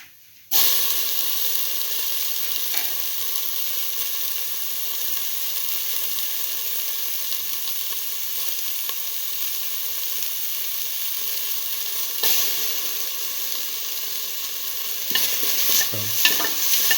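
Tomato pieces fry in a pan with beef, giving a loud, steady close sizzle and hiss throughout, with a few brief stirring scrapes toward the end.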